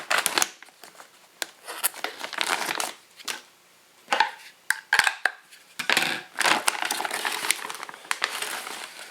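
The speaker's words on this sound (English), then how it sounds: "Might as well just cut an end off here so that make it a little easier to reseal." A sealed plastic bag of pulled 7.62mm bullets with a silica gel desiccant packet being cut open at one end, close crinkling and crunching plastic with short sharp snips in uneven bursts, no talk.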